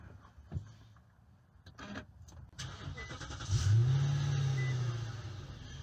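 An Infiniti M56S or M37S with the Sport Package starts up. A brief starter crank catches into a loud, rising engine roar that then settles into a steady idle, preceded by faint interior clicks.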